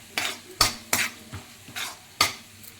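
Urad dal fries with mustard seeds and cumin in hot oil, a soft sizzle punctuated by about six sharp scraping clacks of a spatula stirring against the pan, close and clear.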